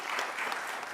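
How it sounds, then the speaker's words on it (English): A brief burst of applause fills a city council meeting chamber, steady dense clapping at moderate distance for about a second with no voices over it. "This is where we pause for applause."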